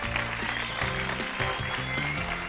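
Steady studio audience applause on a Turkish game show set, a dense continuous clapping wash with music underneath, moderately loud throughout.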